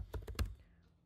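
Three quick, close keystrokes on a computer keyboard while typing a chat prompt, crisp evenly spaced clicks followed by a quiet fade.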